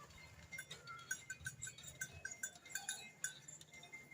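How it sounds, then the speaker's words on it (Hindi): Goats on a village farm, with faint bleats and the light clinking of a bell or metal over a quiet outdoor background, no one speaking. "ये बकरी है"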